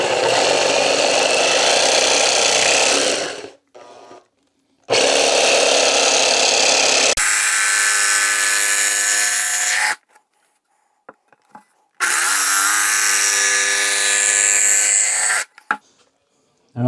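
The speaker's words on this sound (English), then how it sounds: "Okay, now just cut them with a jigsaw." A jigsaw with a metal-cutting blade saws through a board in three loud, harsh bursts of several seconds each, separated by quiet pauses with faint handling clicks, heard close up.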